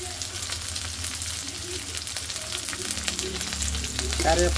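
Green chilies and curry leaves fry in hot oil for a fish curry, giving a constant loud crackling sizzle with occasional stirring scrapes and a faint voice near the end.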